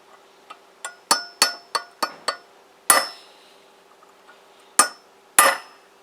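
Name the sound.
hammering a chisel on motorcycle steering bearings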